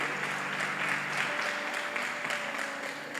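A church congregation claps during a morning service, a dense, steady wash of many hands applauding together, fairly close and sustained with no pause.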